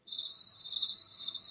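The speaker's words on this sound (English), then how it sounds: "crickets," A cricket sound effect from a sound-machine gadget plays as a steady, continuous high chirping trill, clear and alone for the whole moment.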